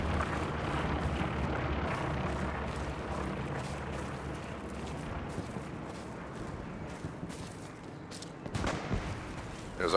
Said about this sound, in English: There's artillery.